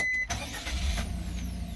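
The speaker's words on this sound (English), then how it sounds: "So I come in here and start the engine." Engine of a Suzuki Carry mini dump truck with a 660cc petrol engine and automatic transmission catching after a brief crank, then settling into a steady, close idle with no talk.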